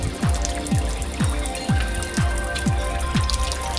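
Water spilling down a newly built landscape wall water feature with no rocks yet in its basin, a steady trickling splash broken by regular dripping plops roughly every half second, close and clear.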